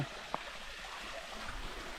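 A mini waterfall in a jungle, a faint steady rush of flowing water with a soft continuous wash and no voices.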